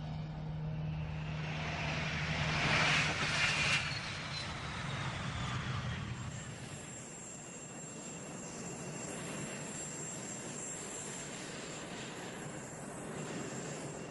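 F-16 fighter jet engine in a flight game, a loud steady roar with a broad whooshing swell early on, then easing to a sustained hum, with no speech.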